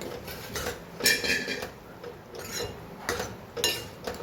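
A spoon stirs toor dal in a cooking pot, giving a series of clinks and scrapes against the metal at an uneven, roughly half-second rhythm. It is fairly close, with no talking.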